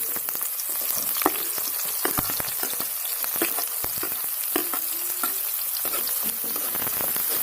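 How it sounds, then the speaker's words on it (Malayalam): Thinly sliced onions hit hot oil with ginger and garlic for a beef and soya chunk roast. They sizzle loudly and continuously, with frequent scraping and stirring clicks from a spoon in the pan. "ഇനി നമുക്കതിലേക്ക് കനം കുറച്ച് അരിഞ്ഞ സവോള ഇട്ട് കൊടുക്കാം"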